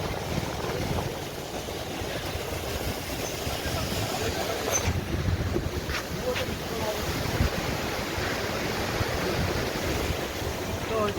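The Rupen river in flood rushes fast and full between its banks, a steady loud roar of churning water that never lets up, with faint voices barely present.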